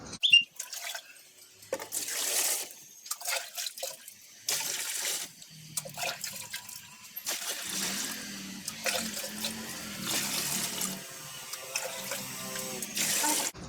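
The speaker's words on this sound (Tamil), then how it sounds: "இதில் வந்து தண்ணி ஊற்றலாம்" Water is poured into a plastic container made into a small guppy pond, with intermittent splashing and trickling bursts that come and go, close by and fairly quiet.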